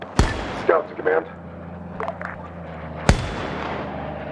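Mortar fire in a video game: two sharp, loud booming blasts about three seconds apart, with faint game sounds and brief bits of voice chatter between them.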